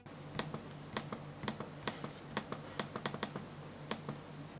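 An Asus X550 15.6-inch laptop's clickpad gives a run of sharp, close clicks, a dozen or so in an uneven rhythm over a low steady hum, with no voices.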